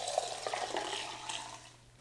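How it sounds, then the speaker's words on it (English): Water poured into melted, heated oils, butters and emulsifiers, a soft, close splashing trickle that fades within about two seconds. "So let's pour the water"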